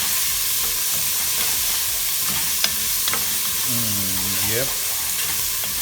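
Ginger browning in a frying pan for a potato and spinach soup, a steady sizzling hiss with stirring scrapes, plus a brief voice and a short tonal sweep near the end.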